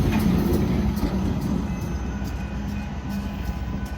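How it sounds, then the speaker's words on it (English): Two BNSF locomotives run light as a power move on the Galveston subdivision, giving a loud, close diesel rumble with rail noise and faint clicking that eases slightly as the units pass. "the next movement we saw on BNSF's Galveston sub was of a power move of two locomotives"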